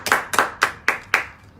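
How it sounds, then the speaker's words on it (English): At a political campaign fundraising event, hands clap in five crisp, evenly spaced claps, close and distinct, with no talking. "Clap for him."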